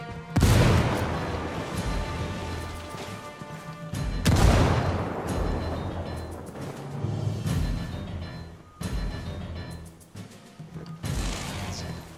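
Grenade blasts and gunfire in Ghost Recon Wildlands: two heavy booming explosions with long rumbling tails, followed by a run of sharper, lighter shots and impacts.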